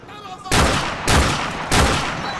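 Gunfire in Call of Duty Modern Warfare Remastered: three heavy, booming shots spaced roughly half a second apart, loud and close, each with a rumbling tail over faint background ambience.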